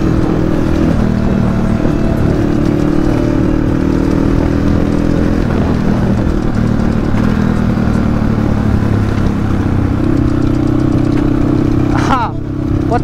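The rider's own motorcycle, freshly repaired and ridden after four or five months near Chunikhel, hums at a steady, close, loud drone with slight shifts in engine pitch while someone talks over it.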